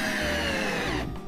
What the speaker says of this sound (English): let's go ahead and put in one more screw